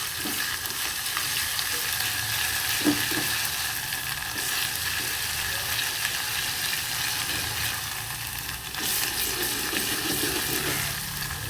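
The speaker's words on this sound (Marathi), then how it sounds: "आलं लसूणची पेस्ट टाकलं आता भाजून घेऊ का हिरवत लागतं." Ginger garlic paste sizzles steadily in hot oil in a pan for a Malvani fish curry, a loud, dense, continuous frying hiss with faint stirring scrapes, close by and with no voices.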